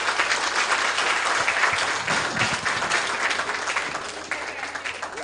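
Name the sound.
audience applause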